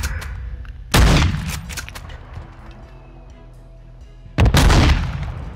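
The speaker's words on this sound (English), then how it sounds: "I just fired at the same time as you." Two loud gunshot blasts in a video game shootout, each with a sharp attack and a rumbling tail, a few seconds apart, with a low steady background hum between them.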